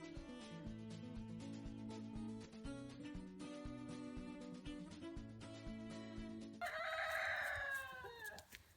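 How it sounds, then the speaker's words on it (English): Rooster crowing in a long, strained call, with other farmyard fowl faintly in the background. "Roosters."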